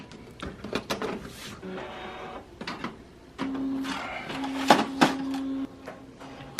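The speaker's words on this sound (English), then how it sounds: "I'll show you a comparison of both print speed and picture quality" An Epson P400 inkjet printer prints a photo on semi-gloss paper: clicks and short mechanical knocks, then a steady motorized whir as the print head shuttles, with sharp ticks and a sudden stop, close and alone.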